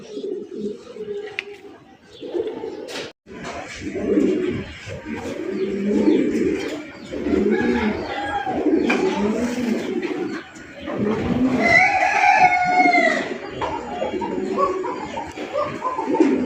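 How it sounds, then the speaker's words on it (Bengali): A pair of blue bar King pigeons makes soft, repeated cooing calls nearby. Chirps and other bird calls mix in throughout, along with some rustling and background noise. "খুবই সুন্দর একজোড়া ব্লু বার কিং কবুতর দেখতেই পাচ্ছেন"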